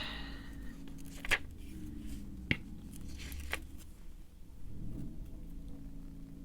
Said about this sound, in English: And the garbage truck's here too.